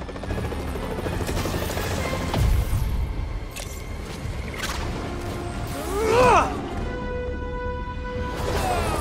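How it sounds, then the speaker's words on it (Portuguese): A helicopter's rotor drone fills the scene with a tonal engine whine, alongside whooshes and a rising swoop, amid busy effects in a Spider-Man video game. "O helicóptero!"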